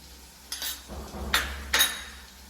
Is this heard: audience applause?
no